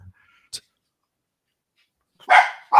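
A pet dog barks in a home: one short yip early, then after a long quiet gap two loud, close barks close the moment.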